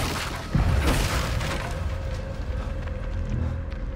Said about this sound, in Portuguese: Vamos quebrar umas caixas aqui pra ver o que que tem.